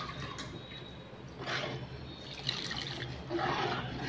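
Water pours into a pot of okra sambar as a soft, steady trickle with a few small splashes, close by, with no talking.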